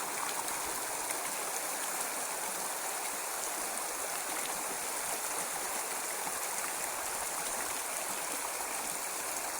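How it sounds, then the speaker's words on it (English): The River Tarset, a small river, flowing in a steady broadband rush of water, close and loud, unbroken throughout with no voices. "This is the river Tarset."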